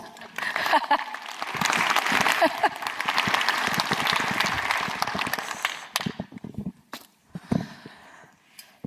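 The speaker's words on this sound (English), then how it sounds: "Give her a round of applause." Audience applause at a BSidesSF 2019 security conference talk, a dense crowd clapping for about six seconds before thinning into scattered claps with a few voices and footsteps as it dies away.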